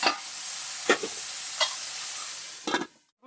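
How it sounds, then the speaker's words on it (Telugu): Taro pieces frying in a pan while being stirred: a steady sizzle broken by a few sharp scraping stirs, close and clear with no talk. "ఇప్పుడు ఇలా కలుపుకుంటూ ఉండాలండి, దోరగా వేయించాలి."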